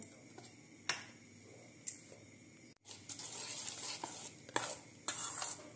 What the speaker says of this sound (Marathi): मीठ टाकून मिक्स करून घेऊया।